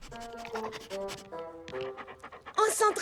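Cartoon dog panting in short breathy bursts, mixed with a bright animated soundtrack and other voices, growing louder near the end.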